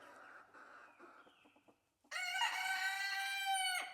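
Chickens clucking softly in a coop with some quiet talk nearby, then a rooster bursts into one loud, close crow lasting nearly two seconds.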